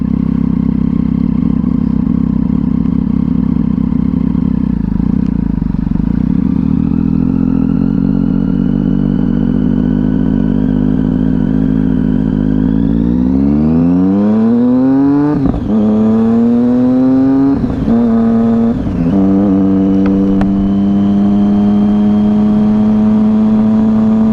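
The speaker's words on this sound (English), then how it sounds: "I do admit the exhaust is a bit loud. It's got the aftermarket SBK dual out pipes." A loud 2011 Triumph Street Triple 675R three-cylinder motorcycle with aftermarket SBK dual exhaust idles with a throaty rumble, then revs up sharply several times in quick bursts before settling back to a steady idle, close by.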